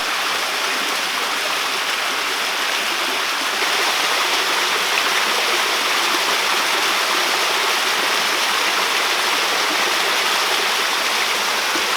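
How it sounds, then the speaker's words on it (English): A small waterfall at the end of a redwood forest trail in Jedediah Smith State Park rushes in a continuous, close, steady roar of falling water, with no voices. "There's supposed to be a waterfall at the end of the trail."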